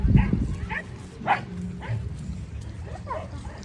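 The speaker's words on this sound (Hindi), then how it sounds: "भौंक रहे हैं भाई, क्यों आई ये कार इसलिए भौंक रहे हाँ हैं" Dogs bark at an arriving car, several short yips and barks at middle distance, spaced irregularly over a low engine-like rumble.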